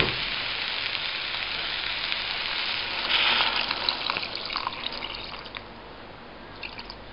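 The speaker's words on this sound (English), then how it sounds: "now I'm going to add the tamarind puree into this" Tamarind puree is poured into a frying eggplant (brinjal) mixture, giving a steady wet pour and sizzle that swells briefly midway, then settles into quieter bubbling and drips, with no talking.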